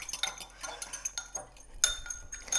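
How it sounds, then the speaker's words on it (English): A whisk or utensil clinks rapidly against a bowl while oil and liquid are combined into a cucumber salad dressing. The tapping comes in quick irregular bursts, close and fairly quiet. "So you can just whisk that together there."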